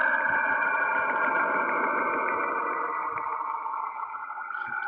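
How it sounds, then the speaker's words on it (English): A NASA recording of Saturn's radio emissions plays as a steady, eerie distorted drone with warbling tones and faint rhythmic ticking, continuous and fairly loud, without any talking. "Saturn transmits distorted sound frequencies"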